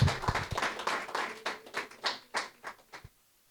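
A church congregation claps at a Sunday family service, a brief round of fairly faint applause that starts dense, then thins into a few scattered separate claps before fading out.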